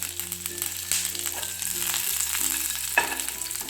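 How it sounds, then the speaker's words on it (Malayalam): Mustard seeds crackle and pop in hot coconut oil while sambar is being made, a busy close-up sizzle with irregular sharp pops and a faint steady hum underneath. "ഞാൻ കുറച്ച് കടു പൊട്ടിച്ചെടുക്കുന്നുണ്ട്"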